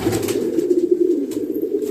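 A pigeon in a loft during cold weather gives a loud, close, throaty cooing that rolls on steadily for about two seconds, with a few faint flutters behind it.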